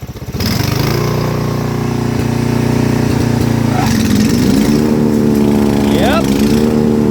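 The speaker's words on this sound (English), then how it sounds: "We're gonna rev the engine" A Murray riding mower engine idles in neutral with the parking brake set, then revs up, its steady rough drone climbing in pitch mid-way and surging again near the end, loud and close.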